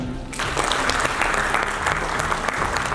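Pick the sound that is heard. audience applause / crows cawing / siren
audience applause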